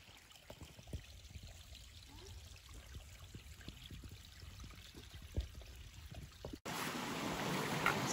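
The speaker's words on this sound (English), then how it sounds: "the water's flowing pretty good." Stream water flowing steadily near the Appalachian Trail at Chimney Rocks in southern Pennsylvania, swollen after rain, ice and snow: a continuous close trickle and rush that turns louder and brighter near the end, with no talking.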